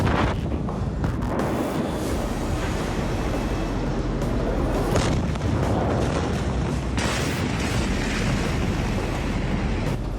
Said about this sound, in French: La déflagration est phénoménale